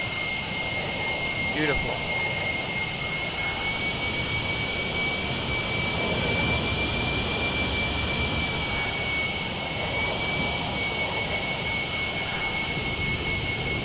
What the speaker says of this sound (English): Full afterburner takeoff with the F16.